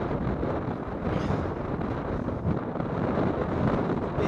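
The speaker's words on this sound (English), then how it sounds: "It is a bit windy up here." Strong wind gusts across an exposed hilltop near a cairn during portable radio operation with a Yaesu FT5D and Arrow Yagi antenna, producing a steady, loud rumble against the microphone with no break.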